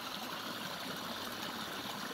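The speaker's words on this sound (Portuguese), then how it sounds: "Olha como é que brota a água no chão" Spring water wells up from the ground on a mountaintop in a soft, steady, close trickling hiss that runs unbroken and alone.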